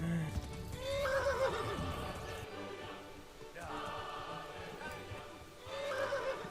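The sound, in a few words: horse neighing in a video game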